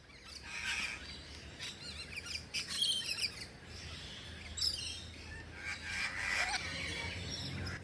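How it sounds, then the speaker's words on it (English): Many tropical birds, including rainbow lorikeets and cockatoos, chirp and tweet in overlapping bursts in a zoo aviary, some shrill calls standing out against a low, steady background hum. "a tropical forest filled with birds from Australia and Asia"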